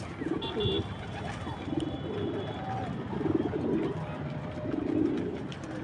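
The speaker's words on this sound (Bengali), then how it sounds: "আমার সিলভার নর মাদি দুটো একসাথে ডাকতেছে" Silver male and female pigeons cooing together in a loft at dusk, soft low repeated coos in rhythmic bursts, close by, with faint background chatter.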